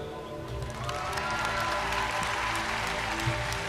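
Large crowd at a public event in Philadelphia applauding steadily, a dense, sustained clapping that carries on throughout with no talking.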